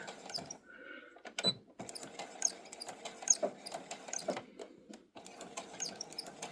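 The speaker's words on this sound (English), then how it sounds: "I'm going to do a couple of locking stitches here" A domestic sewing machine runs short bursts of locking stitches while binding a quilted wall hanging, with quiet whirring, clicking and mechanical rattles broken by brief pauses, close and fairly soft.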